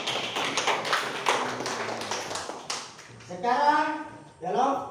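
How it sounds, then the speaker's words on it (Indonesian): Children in a classroom clapping for a group, a ragged patter of small hands for about three seconds, followed by a voice and a teacher's voice speaking. "Tepuk tangan untuk kelompok 3."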